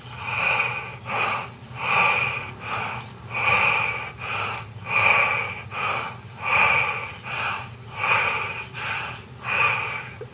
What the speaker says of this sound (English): I'm breathing a bit faster than is normal